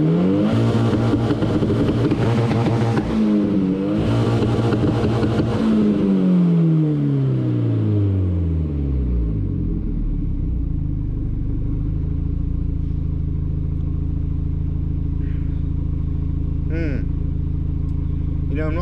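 A turbocharged Volvo car engine revs hard in repeated bursts, bouncing off the rev limiter with stuttering pulses, then drops into a low, steady idle.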